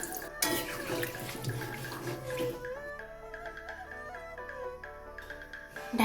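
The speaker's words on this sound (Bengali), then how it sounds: "সব একসাথে ভালো করে কষানো হয়ে গেলে জল দিয়ে দিচ্ছি।" Water pours in a steady splashing stream into a pan of cauliflower, potato and paneer curry, gurgling and bubbling close up for several seconds, with no one talking.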